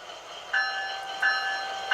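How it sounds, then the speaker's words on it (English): Electronic sound-decoder bell on a Bachmann ALC-42 Charger HO-scale model locomotive, with three bright metallic clangs at a slow, even interval over a faint steady hiss, close and fairly soft. "when you hit the bell"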